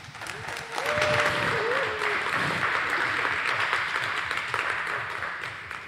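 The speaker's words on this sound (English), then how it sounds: "Please give him a round of applause." Audience applause at a security conference as a speaker is introduced, a steady crowd clapping wash that swells in after a moment and continues under faint background voices.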